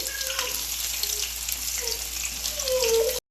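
Onions hit heated oil in a pan for egg rice, giving a steady, close sizzling hiss that runs the whole time and swells a little toward the end.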